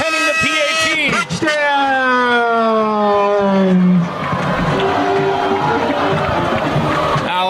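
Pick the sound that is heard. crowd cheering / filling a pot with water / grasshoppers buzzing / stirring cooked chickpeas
crowd cheering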